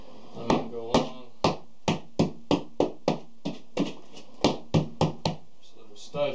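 A hammer knocks repeatedly on a drywall (sheetrock) wall in a bathroom, about fifteen sharp thuds in an uneven rhythm, close and fairly loud.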